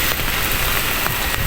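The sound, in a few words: rain falling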